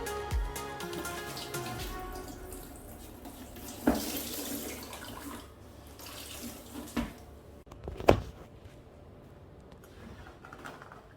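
Water runs from a tap into a sink with a steady splashing flow, punctuated by a few sharp knocks and clinks of dishes.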